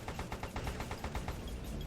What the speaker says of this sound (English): Now we're going to use these rockets to take out these 3 Tiger tanks stationed outside our base.